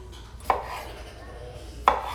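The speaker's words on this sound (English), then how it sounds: "I'm just chopping tomatoes" A knife chops tomatoes on a cutting board for pico de gallo, two sharp, separate thuds about a second and a half apart against a quiet kitchen background.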